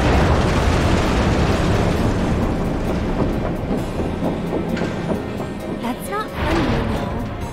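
A train in the video game Final Fantasy VII Remake rumbles loudly and continuously with rattling and clanking, a dense, close roar that keeps a steady level throughout.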